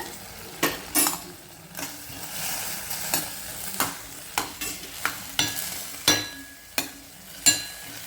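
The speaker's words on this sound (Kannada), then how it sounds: "ನೋಡಿ ಈಗಾಗಲೇ ಹಸಿಮೆಣಸಿನ್ಕಾಯಿ ಫ್ರೈ ಆಗಿ ಮತ್ತು ಅದರೊಳಗೆ ಬೆಂದು ಕೂಡ ಬೆಂದಿದೆ" Green chillies fry in a pan with a steady close sizzle, broken by repeated sharp scrapes and clinks of a metal spoon stirring against the pan.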